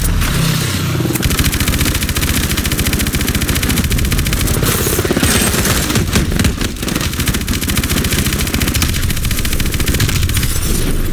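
Sustained automatic gunfire in Call of Duty: Advanced Warfare, a dense, loud, unbroken machine-gun roar with clattering mechanical detail and heavy impacts layered underneath, continuing without pause throughout.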